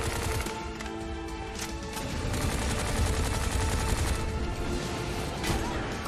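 Dense, continuous gunfire in the action shooter Bright Memory, a steady rapid rattle of shots layered over busy background game noise, loud throughout and without talking.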